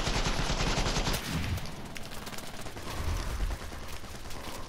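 Rapid bursts of automatic gunfire crackle loudly and continuously in the battle royale game Cuisine Royale, with shots overlapping in dense volleys and no talking over them.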